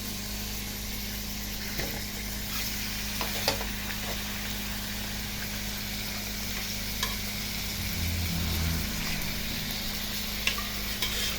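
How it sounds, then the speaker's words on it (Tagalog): Marinated pork belly (liempo hamonado) fries in a frying pan with a steady, dense sizzle that carries through the whole stretch, along with occasional faint clicks and stirring sounds. "At dyan sa ating frying pan, ilay natin ang ating pork chop."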